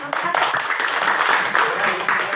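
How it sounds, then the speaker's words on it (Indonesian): An audience in a classroom claps after a group presentation, a dense and steady patter of many hands at close range, with voices mixed into the clapping. "kasih aplaus"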